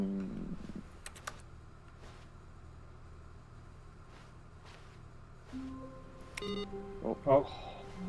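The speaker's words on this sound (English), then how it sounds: "I'm typing again." Keyboard typing inside the video game The Stanley Parable, with sparse clicks and taps over a quiet, low ambient room hum, then a few short tones and clicks near the end.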